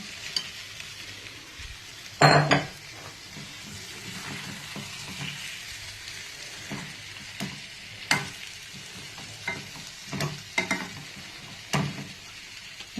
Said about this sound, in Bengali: এবারে ডিমগুলোকে ঢেলে দিলাম।